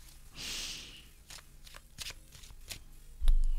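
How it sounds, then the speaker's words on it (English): Tarot cards being shuffled by hand during a live reading, a close papery riffle followed by several crisp taps and flicks, with a louder thump at the end and no talking. "So I'm going to go ahead and shuffle these for you"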